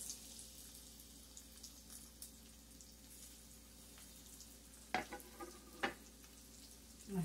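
Breaded tilapia fillets crackle quietly in hot oil, a faint steady sizzle in a calm kitchen, with a few louder clicks and clatters of handling toward the end.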